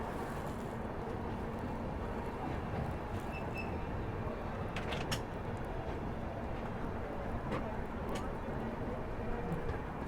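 Shree Shakti AC Express pulling out of Ambala station, a continuous low rumble of rolling wheels and carriages with wind noise and occasional clacks, steady and moderately near.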